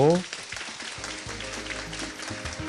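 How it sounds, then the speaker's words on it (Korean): Scattered applause from an audience at a university student debate contest, fairly faint and steady for a few seconds after a voice briefly starts to speak. "자, 우리 수고한 나이아가라에게 박수 부탁드리고"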